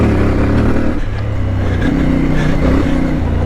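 A CF Moto 450 MT motorcycle engine accelerating hard on a test ride with traction control cutting in, a loud close drone that climbs in pitch through gear changes over wind noise.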